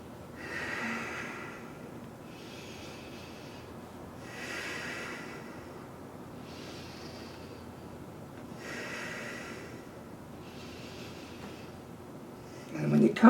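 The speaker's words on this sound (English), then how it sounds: "We'll take about 6 breaths here." Slow, deep breaths during a held yoga pose in a core-strength session, about three full inhale-exhale cycles, each a soft airy rush close to the mic, with a brief rustle at the end.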